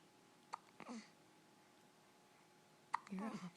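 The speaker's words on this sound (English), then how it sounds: "Those poor little hiccups." A baby hiccups twice, about two and a half seconds apart, each a sharp little catch followed by a soft breathy cry, quiet and close in an otherwise hushed indoor room.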